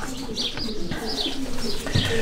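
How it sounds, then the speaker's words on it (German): German Modena pigeons coo repeatedly in a pigeon loft, soft throaty calls recurring at a steady pace, close by and fairly loud, with faint chirps mixed in. "Ich habe in meinem Taubenschlag jetzt 12 Paare. Der deutschen Modeneser"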